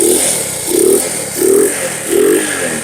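An old motorcycle engine converted to CDI ignition idling close by, a loud steady mechanical drone with a rhythmic swelling pulse about every 0.7 seconds and metallic clatter on top.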